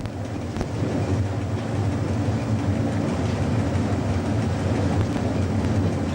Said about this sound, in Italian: Il treno frena per la fermata d'orario